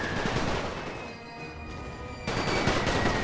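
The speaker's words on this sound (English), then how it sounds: "Firing going all across the line" Dense, continuous rifle and machine-gun fire crackles all along a World War I battle line in a strategy game, with Kaiser Tiroler Jäger and Ukrainian troops engaged in a Russian Revolution scenario. The volley is steady, dips briefly, then swells loud again.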